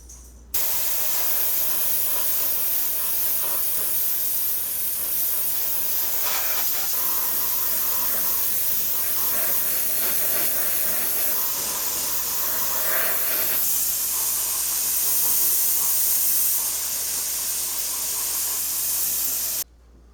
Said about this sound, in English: now I'm going to use my airbrush and start painting the model with the base color